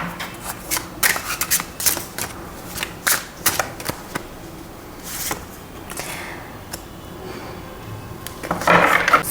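Tarot cards being shuffled by hand, a run of soft riffling flicks and slides at close range with brief pauses between bursts and a fuller flurry at the end, no talking.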